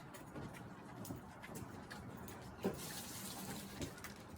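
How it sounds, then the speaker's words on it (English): Water drained from the bottom of a Worm Factory 360 worm composting bin is poured out, a faint, steady trickling and splashing outdoors, with a brief knock partway through and birds faintly in the background. "the water that came out of the bottom, I'm not gonna put in. I'm gonna pour this out."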